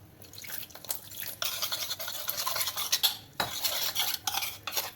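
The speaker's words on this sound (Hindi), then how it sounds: "अच्छे से मिक्स कर लेंगे इसको।" A utensil stirs and scrapes through thin cornflour batter in a bowl, with continuous clinking and swishing close up.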